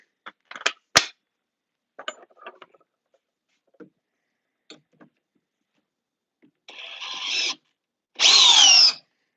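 A cordless power drill in drill mode at speed 2 fitted with an 8 amp hour power pack, heard as two short loud whirring bursts near the end after scattered handling clicks and taps.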